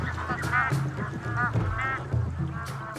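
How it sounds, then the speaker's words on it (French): Bar-headed geese honk repeatedly in a flock, loud nasal calls overlapping in irregular bursts, close by over a low rumbling background. "Voici l'oie dominante du groupe."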